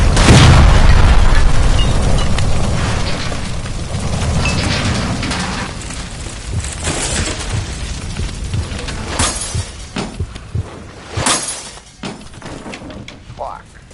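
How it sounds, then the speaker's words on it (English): A gas line blows up beside a stove in a video game, a loud boom with shattering debris that tails off into crackling and scattered bangs, with voices over it. "Shoot the gas line, Cole, we're out of here!"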